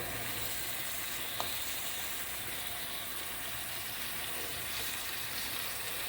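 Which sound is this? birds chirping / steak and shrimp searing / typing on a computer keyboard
steak and shrimp searing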